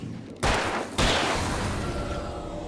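Gunfire in the video game Alan Wake: two loud, sharp shots about half a second apart, each followed by a long, booming echo that trails off.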